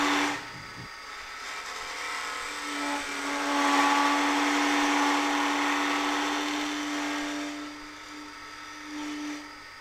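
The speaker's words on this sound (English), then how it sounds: "if too heavy a cut is taken, it can lead to vibration and chattering, as we can hear now" A Robert Sorby multi-tip hollowing tool taking too heavy a cut on a lathe workpiece chatters and vibrates, a sustained buzzing whine that swells louder midway and then eases, over a steady motor hum with no talking.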